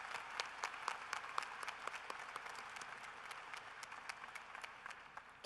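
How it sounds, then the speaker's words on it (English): A commencement audience applauds steadily at a university graduation ceremony, dense overlapping clapping from a large crowd heard from some distance, sustained for several seconds without speech. "Let's give them a round of applause."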